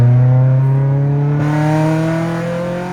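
A JDM K24A engine in a worn, rusted Integra revs hard and close, a loud steady harmonic drone whose pitch climbs smoothly as VTEC engages, with no talk.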